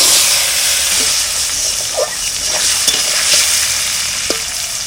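Bay leaves, whole coriander, cumin and potato sizzling in hot oil while kochu greens are cooked: a steady loud frying hiss with occasional stirring scrapes, no voices.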